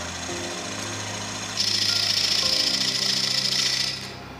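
A wood lathe spins a wooden platter as a gouge cuts in, a steady close mechanical hum with a harsher, brighter rasp of tool on wood rising midway before easing off.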